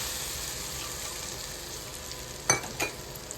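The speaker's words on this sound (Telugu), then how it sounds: "ఇక బాగా వేడెక్కిన ఆయిల్, పోపు ఈ వేడిదే ఇందులో వేసేయాలి." Hot oil tempering sizzles steadily and loudly as it is poured into mango pickle, with a couple of sharper crackling bursts near the end.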